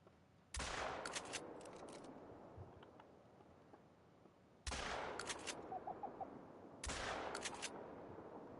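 Three loud hunting-rifle shots in TheHunter: Call of the Wild, each one sharp with a long echoing tail, set against quiet outdoor ambience and spaced a few seconds apart.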